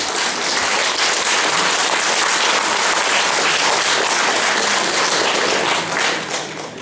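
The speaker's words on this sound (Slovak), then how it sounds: "potlesk pre Očovú." Sustained applause from a crowd at a Slovak folk event in Detva for the folk group from Očová, steady and loud before tapering slightly at the end.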